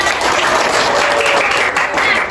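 A burst of dense, sustained clapping from a group, loud and even for the whole stretch.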